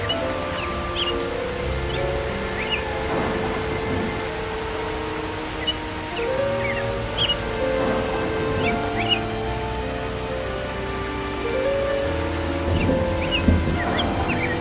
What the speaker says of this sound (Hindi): अरे मंटू, इस बारिश में यहाँ बैठकर क्या कर रहे हो?